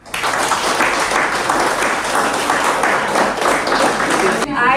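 A room of participants at a climate-resilient infrastructure training session claps together in a dense, even burst for about four and a half seconds, then it stops abruptly and a voice begins.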